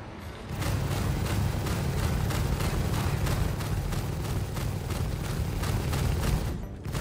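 Spaceship guns in the video game Star Citizen firing in a long continuous rapid burst, loud and even, a steady mechanical stream of shots lasting several seconds with no voices over it.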